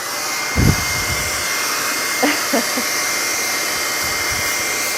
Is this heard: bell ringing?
no